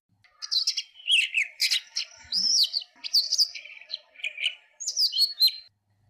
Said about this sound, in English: Throughout the autumn, the chiff chaff, concealed in thick foliage, continues to chirp for hours on end.